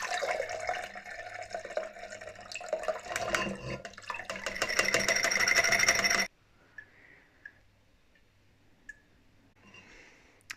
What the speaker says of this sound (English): I'm now going to strain the alcohol away.